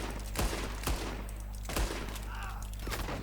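Gunfire in the cowboy shooter Red Dead Online: three sharp, booming shots spaced about half a second to a second apart, loud and close over a low background hum.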